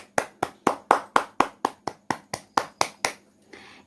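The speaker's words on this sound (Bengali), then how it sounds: "প্রত্যেকের জন্য একটা জোরে হাততালি হয়ে যাক প্লিজ।" A round of clapping for dance competition performers, about a dozen sharp, evenly spaced claps from a small group, fairly close, ending in a brief softer rustle.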